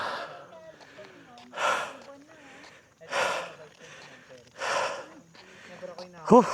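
Heavy breathing after hiking up Mount Banoy in Batangas, with loud rhythmic gasping exhales about every one and a half seconds, close to the microphone and mixed with faint voiced murmurs.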